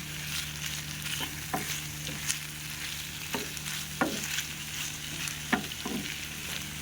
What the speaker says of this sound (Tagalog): So, I will saute with the pork, with the onion and garlic.